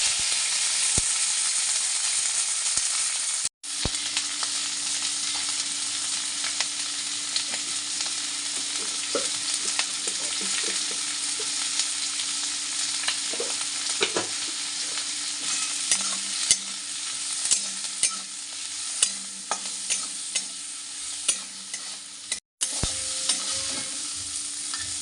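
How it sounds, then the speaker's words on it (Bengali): Prawns fry in a pan, a steady close sizzle running throughout with occasional faint spatula taps and stirring scrapes, no voices present. "চিংড়ি মাছটা ভেজে নিয়েছি।"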